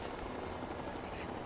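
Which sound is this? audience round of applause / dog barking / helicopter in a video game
helicopter in a video game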